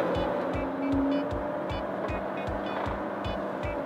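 Airstream Interstate Grand Tour motorhome cruising on a highway, steady interior road rumble with a regular thumping beat from tires over pavement joints and a faint whine, no talk.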